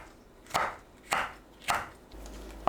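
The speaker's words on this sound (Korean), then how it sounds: "청양고추와 홍고추도 썰어줍니다." Knife chopping green and red chili peppers on a board: four sharp, evenly spaced thuds, close and clear, with no talk.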